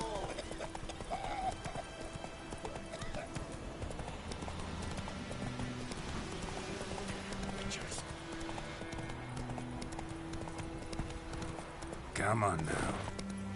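Hooves of the horse in The Witcher 3 clip-clop steadily throughout, with a brief whinny near the end, mixed with game music and someone speaking over them.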